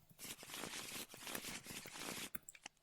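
Game cards from a Disney Villainous board game are shuffled by hand, a soft continuous riffling patter with brief card taps at the end, close and quiet.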